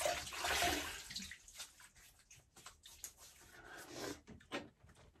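Water splashes as a face is wet before shaving, with a burst of running, sloshing water at the start followed by softer intermittent drips and splashes close by.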